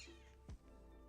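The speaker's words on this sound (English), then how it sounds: "if you hear my cat meowing" A single short, faint cat meow over a quiet background hum, with no talking.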